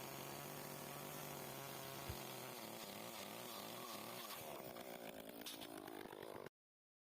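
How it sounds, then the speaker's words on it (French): A chainsaw roars continuously at close range, its pitch shifting as it bites through a wooden post, then cuts off abruptly at the end. "puis à la tronçonneuse pour le morceau de bois"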